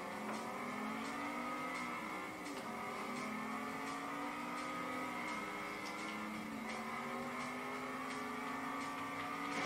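A Chevrolet Corvette Stingray engine drones steadily in the Test Drive Unlimited racing game, its pitch sweeping up and down with repeated gear shifts, loud and continuous throughout with no talking.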